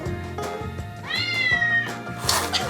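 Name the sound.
cat meowing played from a smartphone meowing app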